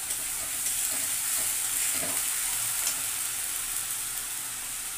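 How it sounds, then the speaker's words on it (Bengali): Spice paste fries in a pan with a little water added, giving a continuous bright sizzle and steam hiss alongside faint stirring scrapes, steady and moderately loud throughout. "এর মধ্যে একটু জল দিয়ে দেবো।"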